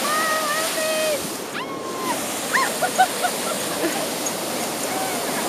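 Ocean surf washing steadily onto a beach at dawn, a constant broad wash with a brief lull partway through, and a dog's bark and faint voices popping up over the waves.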